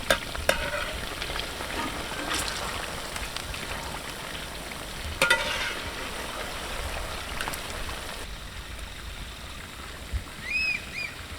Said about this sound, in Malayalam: നമുക്ക് ഓരോ ചിക്കൻ പീസായിട്ട് ഇങ്ങനെ എണ്ണയ്ക്കകത്ത് ഇട്ട് കൊടുക്കാം.